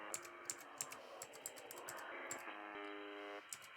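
Keys on a computer keyboard are pressed to control a UNI Twente software-defined radio, with sharp, irregular clicks close by over a steady, tonal radio hum that shifts pitch partway through.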